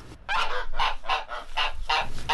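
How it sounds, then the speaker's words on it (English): A goose gives a rapid run of five or six loud, close, harsh honks in an uneven rhythm, with no people talking. "Never let a goose corner you."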